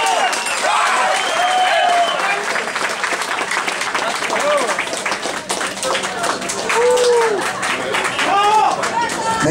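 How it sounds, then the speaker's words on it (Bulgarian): An audience applauding after an MMA fight in Plovdiv, with sustained clapping and cheering from a crowd indoors and a voice speaking over the noise throughout. "Още веднъж аплодисменти."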